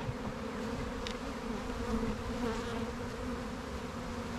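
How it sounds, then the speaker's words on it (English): A dense, continuous buzz of many bees droning together close by around a Micro Banker hive, steady throughout with no voices. "Bunch of bees on the inside of that cover too."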